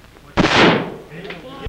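Single loud gunshot from a trick-shooting stunt in an old film, a sharp blast with a decaying roar, followed by faint background noise and a brief voice.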